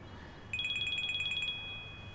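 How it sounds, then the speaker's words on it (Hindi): A phone rings at home with a rapid electronic trill lasting about a second, moderately loud over a quiet room, then stops. "अरे उठा लो फोन"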